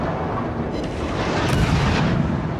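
Naval artillery fire directed at the player's warship in World of Warships, a dense continuous rumble of distant gun blasts and booms with a slightly heavier burst midway, no voices.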